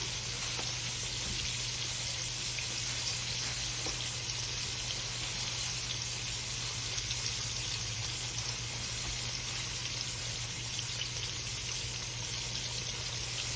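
Pork chops fry in a crowded pan, giving a continuous soft, even sizzle and crackle at moderate level with no talk over it.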